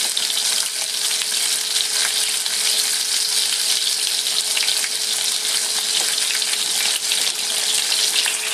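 Country-style pork chops fry in a pan, giving a loud, steady, close sizzle of hot oil that holds at an even level throughout, with no voices.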